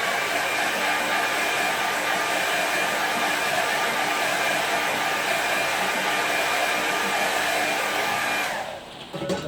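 A hair dryer blows steadily and loudly over a watercolour painting of a forest path, a continuous close whoosh with no talk, cutting off abruptly near the end.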